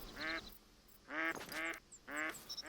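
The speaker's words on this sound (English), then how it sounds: "There's more ducks." Ducks quacking in the video game theHunter: Call of the Wild, three distinct nasal quack calls spaced about a second apart, clear and fairly close against a quiet outdoor background.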